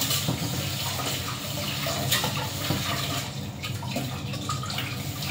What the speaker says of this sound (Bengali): চাউলটা আমি 3 বার ধুবো, 3 বার ধুলে চাউলটা ভালো।